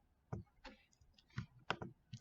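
Computer mouse clicks while working in Excel: several crisp, close clicks, some in quick doubles, spaced irregularly over a quiet background with no talk.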